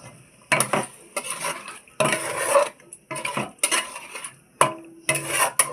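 Prawn malai curry stirred in a metal pan, with bursts of spoon scraping and clattering against the pan separated by short pauses, close and fairly loud.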